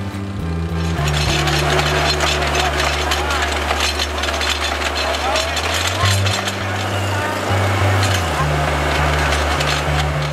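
Loud droning engine of a water well drilling rig straining to free a stuck drill bit, steady low rumble with shifting pitch and rattling mechanical clatter, continuous and close, with a voice speaking over it.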